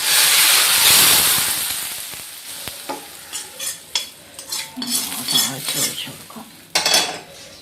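Hot tempering poured into a dried fish (karuvadu) curry hisses loudly at first, then fades into softer sizzling while a spoon stirs and clinks against the pot in a run of short scrapes.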